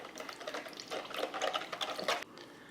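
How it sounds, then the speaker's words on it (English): Thick white glue and green food coloring being stirred together into slime, giving a wet, sticky squelching and scraping that runs steadily for a few seconds with rhythmic surges, close and fairly loud, no talking. "and then you just want to mix it thoroughly"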